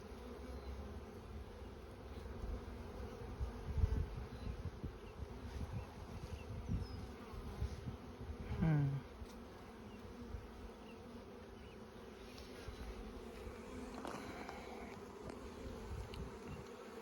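Honeybees buzzing in an open beehive during a honey super addition, a dense continuous drone close by, with individual bees zipping past now and then and no talking.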